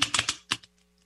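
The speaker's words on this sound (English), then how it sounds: "So don't mind some shuffling noise here." A few quick papery bursts of tarot cards being shuffled, close by, followed by near silence.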